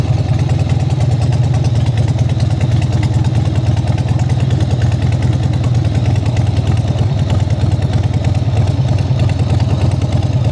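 A motorcycle engine idles in a motorcycle shop, a loud, steady, even rumble with a light mechanical clatter that runs unbroken from start to finish with no voices.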